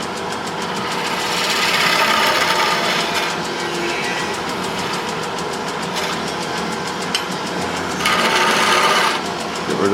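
Wood lathe spinning a long, thin spindle while a tool rounds over the end, a continuous rough rasping and whirring that swells louder around two seconds and again near nine seconds.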